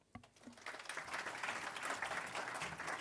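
An audience at an energy-grid conference breaks into applause, starting with a few scattered claps and swelling into steady, sustained clapping from a crowd at moderate distance.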